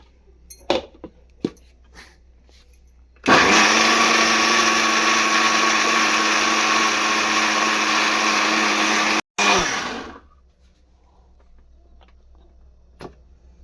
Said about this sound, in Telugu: ఇప్పుడైతే మిక్సీ పట్టేసుకో